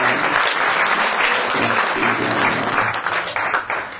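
An audience at a lecture by Bhakti Caitaniya Swami breaks into loud, sustained applause for the actors, dense clapping filling the whole stretch and easing slightly at the end.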